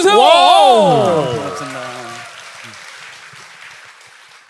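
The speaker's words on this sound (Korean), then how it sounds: "여러분 박수 한번 주세요." Studio audience applause on a Korean talk show, a soft wash of clapping that rises under a man's brief spoken thanks and then gradually dies away.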